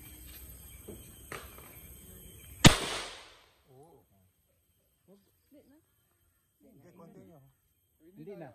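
A single sharp rifle shot cracks out close by at a shooting range during a rifle drill, with a short echoing tail, followed by people talking quietly.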